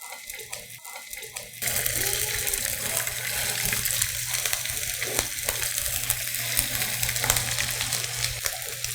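Tteok-galbi, Korean grilled beef patties, hit a hot oiled pan and break into a loud, steady sizzle that keeps going, with someone talking softly over the frying.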